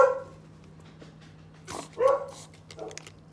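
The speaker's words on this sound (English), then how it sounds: "Sorry about the dogs." Indoor dogs giving a few short barks and yips, a brief burst at the start and another pair about two seconds later, fairly close over a steady background hum, no talking.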